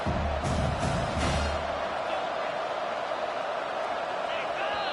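A college football stadium crowd at a Ball State versus Toledo game roars in a steady, loud wash late in the first half, while a commentator talks over it near the start.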